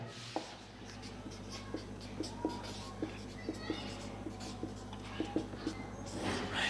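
Chalk or marker taps and scratches on a board during a Hindi grammar lecture, a quiet series of short, evenly spaced strokes over a low room hum.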